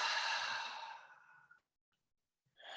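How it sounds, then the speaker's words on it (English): A deep, breathy exhale during a guided breathing session, a soft, steady rush of air that tapers off over about a second and a half, followed by silence and the start of another breath. "and letting it all out, exhale."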